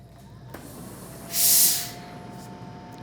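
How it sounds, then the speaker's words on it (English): A steam iron releases one short, loud hiss of steam onto cross stitch fabric, rising and fading within about half a second against a quiet room hum. "You can either just put your iron on it like that and it just comes off, or this one, the steam will get it off."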